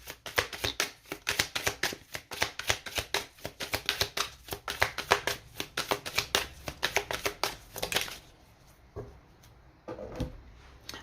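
Inner Star oracle cards shuffled by hand, a close run of quick papery riffles and taps for about eight seconds, then a few softer card sounds trailing off.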